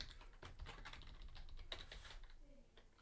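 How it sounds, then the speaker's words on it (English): Typing on a mechanical keyboard, a fairly quiet stream of quick irregular key clicks that continues for about three seconds, with no talking over it. "I'm on a mechanical keyboard"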